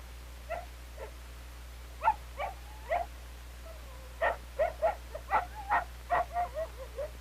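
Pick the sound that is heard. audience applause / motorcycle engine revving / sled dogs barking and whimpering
sled dogs barking and whimpering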